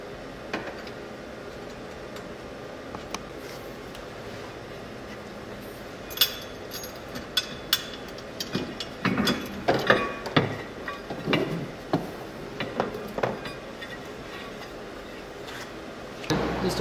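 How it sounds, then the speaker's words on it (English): Ratchet clicking as a 6 mm rear bolt is removed from a stock TEAM golf car clutch, a run of quick light ticks and clacks, close and fairly quiet. "We just got to remove the rear bolt. This is a 6 millimeter."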